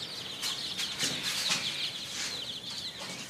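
Chicken clucking inside a home bathroom, a steady run of close, bright clucks and squawks over a constant background hiss, with no talk.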